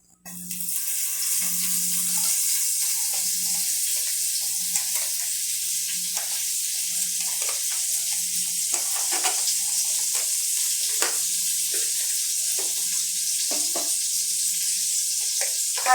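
Butter melts into two spoons of olive oil in a pan for chicken stroganoff, a broad, steady sizzle that carries on without a break, with faint pops and crackles.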